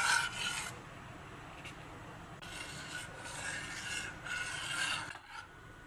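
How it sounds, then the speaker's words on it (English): A spoon or whisk scrapes and rubs steadily against the bottom of a pan while Portuguese tart custard is stirred, giving a close, continuous rasping sound with brief pauses and no talking. "So make sure you keep stirring it."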